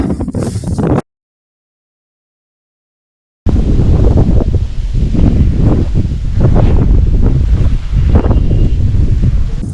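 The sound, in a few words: strong wind on a lake shore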